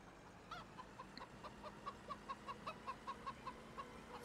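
Chickens cluck in a farm yard in the video game Farming Simulator 2013, a steady run of short, fairly quiet clucks repeating about every quarter second over a low ambient hum.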